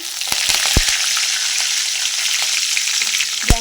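Mustard seeds, cumin and curry leaves crackle in hot oil in a pan, a close, loud sizzle punctuated by scattered sharp pops and spits.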